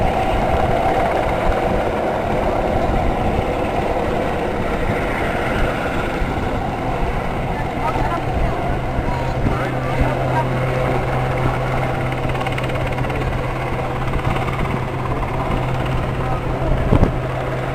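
Steady loud rescue helicopter rotor roar hovering low over the sea at an airshow, continuous churning noise over rushing water, with no pauses.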